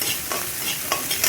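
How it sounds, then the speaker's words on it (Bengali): Pointed gourd (potol) frying slowly in a pan, a steady soft sizzle with occasional stirring scrapes, close and alone without talk. "পটলটা ভাজা হচ্ছে আস্তে আস্তে।"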